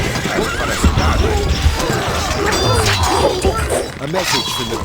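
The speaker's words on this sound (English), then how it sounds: "الفرس تعدو." Neighing and clip-clopping hooves of a galloping horse in the strategy game Stronghold: Crusader sound close and continuous, layered with game voices and crashing clatter.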